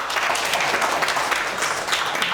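A studio audience at a TV comedy talk show breaks into loud, steady applause for the sponsor, with dense clapping that fills the whole short stretch.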